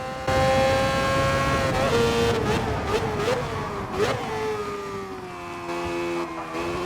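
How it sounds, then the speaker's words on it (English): A Mazda 787B quad-rotor race car in a racing game brakes hard into turn 1 of the Nürburgring, its loud buzzing rotary note dropping in pitch through several sharp downshift blips with engine braking, alone without talk. "each time I clicked the pedal down, you could hear the gear shift down. You could hear the engine braking."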